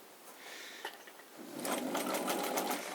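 A Necchi Supanova sewing machine stitches steadily, with a soft whirr that builds into a faster, louder run of needle strokes, close up and quiet overall with no talking.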